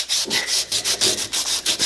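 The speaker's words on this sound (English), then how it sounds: "sculpted it up with the sander" Rhythmic abrasive rubbing of a power sander shaping a resin knife handle, loud and close, pulsing in quick regular strokes.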